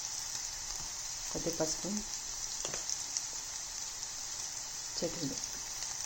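Ginger-garlic paste frying in oil for a tomato and stuffed brinjal curry: a soft, continuous sizzle, close and steady, with a voice speaking briefly over it.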